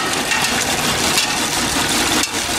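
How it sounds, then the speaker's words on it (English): A bicycle chain runs over sprockets on a pedal-driven generator stand at about 60 RPM, a steady loud mechanical rattle and whir with gritty clicking texture throughout, no voices. "The left side chain is moving at a 60 RPM speed."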